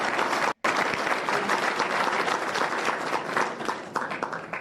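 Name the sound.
audience clapping at a hearing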